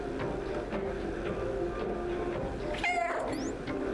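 A cat meows in the video game Stray, a short rising call near the end over a steady hum of game ambience, with a few faint background clicks.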